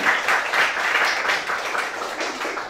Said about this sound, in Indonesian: Tepuk tangan dulu dong, kita semua